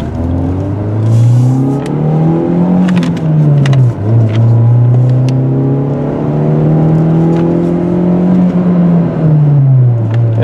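A white 2001 VW Jetta GLS wagon with a manual gearbox pulls away hard, its engine note climbing steadily through the gears with a brief dip at a shift, loud and close from inside the car with no talk.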